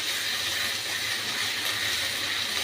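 Ginger-garlic paste sizzles steadily in a pan of fried onions for mutton kosha, a loud, continuous hissing fry with no talk.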